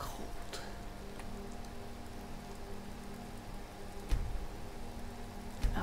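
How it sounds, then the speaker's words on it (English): Rainfall in the video game Skyrim Special Edition, a soft continuous patter with a few sharper drops and faint background tones, steady and fairly quiet. "Now it's raining."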